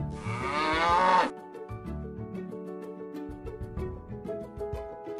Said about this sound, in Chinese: 有牛哎，右边 奶牛